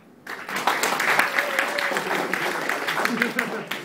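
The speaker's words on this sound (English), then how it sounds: "Did we clap for him?" Audience clapping in a room before a short Pecha Kucha talk, a burst of dense applause that starts abruptly and carries on, with some voices mixed in.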